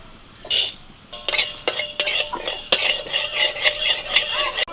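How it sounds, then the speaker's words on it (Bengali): Chana dal and urad dal dry-roasting in a pan, the lentils rattling and scraping under a spatula in quick bursts with metallic clinks, close and without talk. "দুটো ডালকে একসাথে ভেজে নেব"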